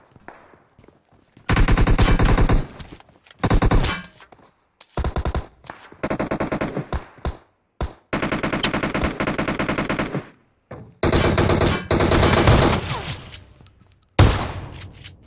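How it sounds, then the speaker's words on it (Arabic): Automatic weapon fire from PUBG Mobile comes in loud, rapid bursts separated by short silences, with a few single shots between them. "عمي راح اشغل سلاح"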